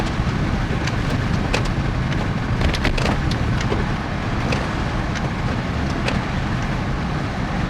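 A Ford F150's front end gives off a low, steady growl while the steering is loaded, a constant rumble with faint road and wind noise over it and no voices.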